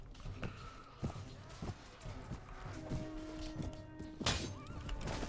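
Horse in the Mount and Blade Warband battle neighs amid clip-clopping hooves and dull thuds, a busy in-game skirmish soundscape with repeated impacts and a sharp burst near the end.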